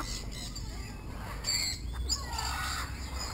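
Exotic bird at a Florida bird rescue gives a few short, high chirps and whistled calls over soft background noise, close by and moderately faint.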